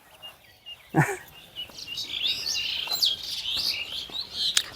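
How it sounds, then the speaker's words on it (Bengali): Birds chirp and tweet in a steady outdoor chorus, with a sharper nearby call and short bursts layered over faint background noise. "পাখির কিচিরমিচির"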